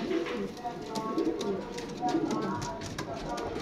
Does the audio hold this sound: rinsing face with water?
no